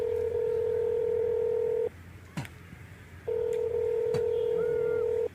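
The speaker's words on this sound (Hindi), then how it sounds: "फोन करते हैं हम।" Keypad tones from a phone as a number is dialed: a long steady tone, a pause with a couple of brief clicks, then another long tone, loud and close with no talking.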